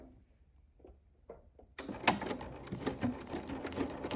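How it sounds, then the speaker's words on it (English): A sewing machine stitches a pillow's opening closed, starting with a few soft mechanical clicks and then running into a loud, steady, close whirring buzz that continues to the end. "you want to sew this opening close"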